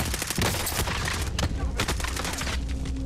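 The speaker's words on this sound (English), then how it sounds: "I'm getting shot from another angle" Rapid gunfire from a World War II shooter game with an Armaguerra 43 submachine gun, dense bursts and volleys crackling throughout, loud and close with more shots from other directions.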